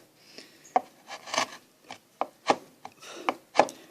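A hand chisel carves an upper case letter into wood, giving a run of sharp, close scraping and chopping strokes about every half second, each short and crisp, with no talking.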